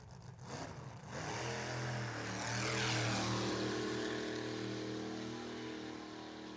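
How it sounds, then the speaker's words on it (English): A wheelstander drag car running at a drag strip during a World Series of Drag Racing event: a loud, sustained engine roar swells and holds steady for several seconds, with no talk over it. "here we go with the wheel stander as we get to see a little wheel standing action here"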